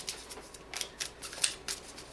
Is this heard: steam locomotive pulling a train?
no